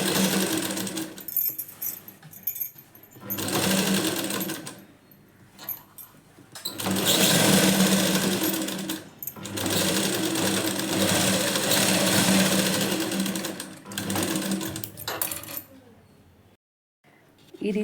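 A sewing machine stitches an alteration on a readymade chudidar dress, whirring close and loud in several bursts of steady rapid stitching separated by short pauses.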